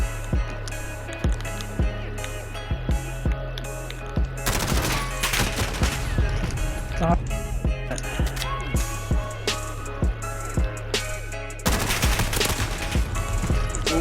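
Rapid automatic gunfire in Call of Duty comes in repeated sharp bursts, with dense volleys around the middle and near the end, loud and close with brief pauses between strings of shots.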